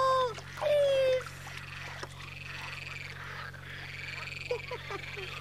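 Frogs croak in a 1975 East German children's radio play on cassette, with a brief whistling sweep at the start followed by scattered croaks over a low, steady hum.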